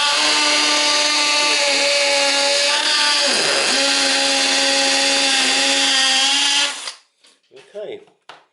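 A power drill runs continuously at high speed, boring holes into a wall above a dustpan, loud and close with a slight pitch dip midway, then stops, followed by brief soft clatter and talk.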